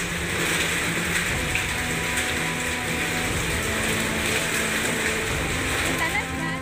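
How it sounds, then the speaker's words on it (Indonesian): Hailstorm with strong wind in Sambi, Boyolali, Central Java, as hailstones drum loudly and continuously on house roofs, a dense rattling clatter that never lets up. "butiran es yang jatuh di atap rumah warga mengeluarkan suara keras"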